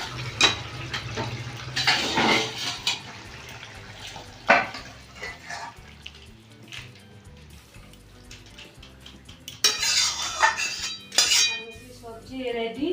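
Cooked mixed vegetables are scraped and poured out of a pan with clinking utensil and metal-on-pan clatter in scattered bursts, fairly close, with quieter stretches between.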